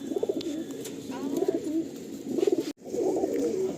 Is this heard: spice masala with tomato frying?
no